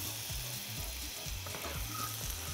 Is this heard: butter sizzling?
yes